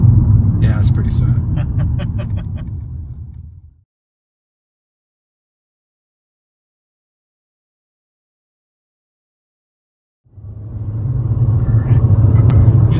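A car driving down the road makes a loud, close, steady low rumble that cuts out to silence for several seconds midway, then returns at full strength.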